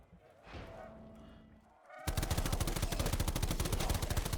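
Gunfire in Modern Warfare 2019 from a semi-automatic FAL rifle, quiet ambient sounds at first, then a sudden loud run of fast, evenly spaced shots that continues to the end.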